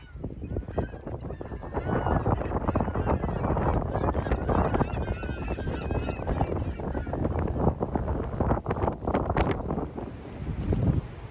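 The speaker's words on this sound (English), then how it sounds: "hopefully I'll have some music in the background to drown out this noise of the wind" Wind blowing hard across a campsite in the Rockies, a constant roaring rush buffeting the microphone with gusty surges throughout, loud and close.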